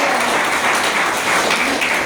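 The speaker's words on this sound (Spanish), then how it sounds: "¿Cuánto da un aplauso al Señor?" A church congregation claps, steady, dense applause from many hands filling the space at a constant loud level.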